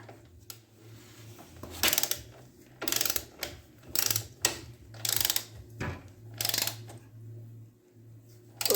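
Ratchet wrench running nuts down on the front end of a 2003 Dodge Ram 3500 dually, heard as repeated bursts of rapid clicking spaced about a second apart, close and fairly loud over a low steady hum.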